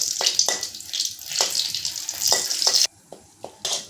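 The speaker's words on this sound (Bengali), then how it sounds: "শুকনো লঙ্কা আর তেজপাতাটা একটু লাল করে ভেজে নেব" Dried red chillies and bay leaves fry in hot oil in a pan, giving a steady, close sizzle with a few soft clatters of stirring. The sizzle breaks off abruptly near the end.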